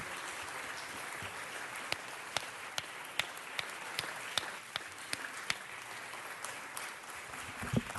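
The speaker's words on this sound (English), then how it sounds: "let's give another round of applause" A city council meeting audience gives a round of applause, with steady, fairly soft clapping across the room and a few louder, sharper individual claps standing out near the microphone.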